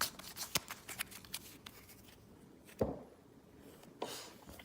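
Board game cards are shuffled by hand during solo setup of Xia, making soft quick riffling and tapping bursts with a louder snap near the end, close and fairly quiet with no voices.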